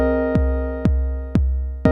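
Clean synth pattern from an Elektron Model:Cycles, with four evenly spaced plucked notes over a steady sustained harmonic tone and a low bass drone, loud and alone.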